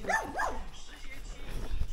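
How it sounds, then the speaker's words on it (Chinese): A small dog gives two quick yapping barks near the start, followed by fainter whimpering sounds, heard under background murmur and voices at a home where an air conditioner is being installed. "小狗狗。"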